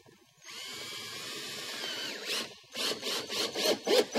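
A power drill drives screws into a stone-coated steel roof ridge panel and the 2x2 at the ridge board, first a long steady whine, then several short bursts, close and loud.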